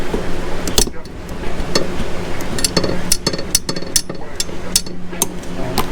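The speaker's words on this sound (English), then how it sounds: "Just get in there with a ratcheting wrench and start turning." A ratcheting wrench loosens the AC line nuts on a Toyota Soarer, giving a rapid run of close metallic clicks and ticks that continues throughout the clip.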